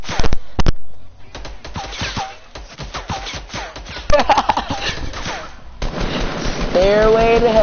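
Rapid bursts of gunfire in a Fortnite match crackle in sharp clusters, loud and close, with excited voices talking over and between the shots.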